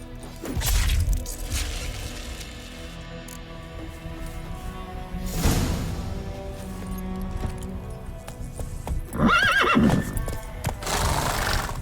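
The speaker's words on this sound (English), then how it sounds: "I'll ready our horses." Horses in The Witcher video game neigh loudly with a sharp whinny near the end, mixed with hoof clatter and game sound effects, several bursts across the stretch.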